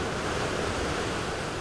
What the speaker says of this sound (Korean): 거친 소리를 내며 쏟아져 내리는 호국폭포는 무엇이든 다 삼켜버릴 듯 거침없습니다